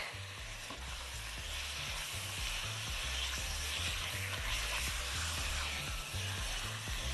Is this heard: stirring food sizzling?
yes